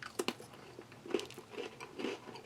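Crisp bites and crunching of a chocolate biscuit from a Taiwan Army Type B ration, a few close, sharp crunches spaced apart with quiet chewing between.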